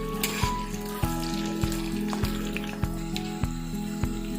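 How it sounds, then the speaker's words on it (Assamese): Onions fry in oil in a kadai toward golden brown for a chicken and banana stem curry, a low steady sizzle punctuated by regular spatula knocks against the pan, close and without talk. "পিয়াজখিনি ভালকে গোল্ডেন ব্ৰাউন নোহোৱালৈকে অকণ ভাজি লম"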